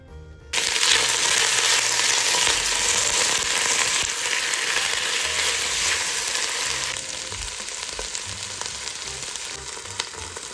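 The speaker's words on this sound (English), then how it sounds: "we are going to cook up some stew meat in that oil that we just warmed up" Beef stew meat dropped into warm olive oil bursts into a loud, close sizzle that settles into a steady frying hiss with a slight shift partway through, no talking.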